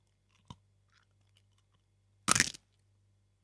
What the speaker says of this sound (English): There's your crunch, Vinny.